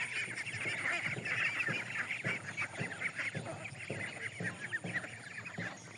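Village ducks and ducklings in rural Rangpur give a busy run of nasal quacks and calls, repeated in quick bursts at moderate distance, with no talking.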